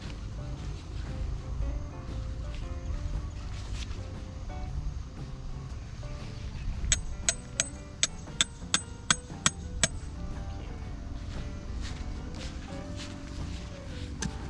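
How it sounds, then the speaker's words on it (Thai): Hammering anchor stakes into the ground while pitching a tarp at a cabin campsite, a quick run of about eight sharp, evenly spaced metallic strikes in the middle over faint background music. "ตอกไว้คร่าวๆก่อนนะครับ"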